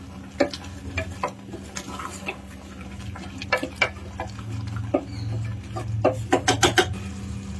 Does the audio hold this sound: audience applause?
no